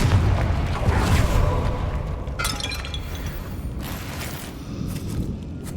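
Confringo fire-explosion spell cast in Hogwarts Legacy: a loud burst and rumble that breaks into crackling, shattering debris and lingering magical sizzles, fading gradually.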